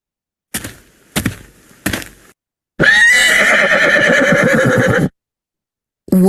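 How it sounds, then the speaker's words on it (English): Several sharp clip-clop hoof knocks come first from a horse on a farm, followed by one loud, close, quavering neigh lasting a couple of seconds, then silence. "I can see a horse."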